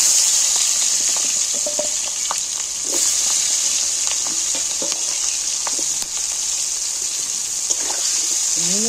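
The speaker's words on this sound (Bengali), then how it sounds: "পেঁয়াজগুলো তেলের মধ্যে তুলে দিচ্ছি" Medium onions, cut into quarters and sliced, fry in oil for a desi-style chicken curry with a constant bright sizzle, while occasional spatula scrapes and clinks sound close by.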